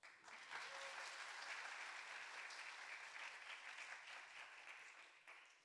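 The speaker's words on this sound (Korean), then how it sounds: "다시 한번 박수" A youth worship congregation applauds to welcome Pastor Kim Gil to the pulpit. Many hands clap in a dense, continuous stream that rises quickly, holds steady and tapers slightly at the end, heard alone and fairly quiet.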